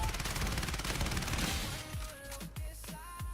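Enemy automatic gunfire in Call of Duty, a dense rattling stream of shots for about two seconds, then a handful of separate sharp reports with ringing tones trailing after, loud and fairly close.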